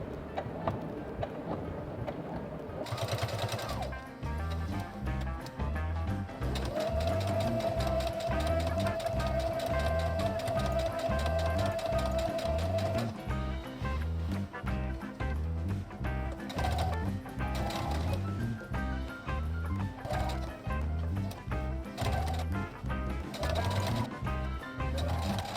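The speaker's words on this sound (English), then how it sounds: "I just start sewing from about here, lining up the raw edge of the quilt and the binding right together here" Sewing machine runs steadily and continuously, stitching binding onto the raw edge of a quilt, with a fast even mechanical chatter and hum that holds at a constant pace throughout, close by and fairly loud, no talking.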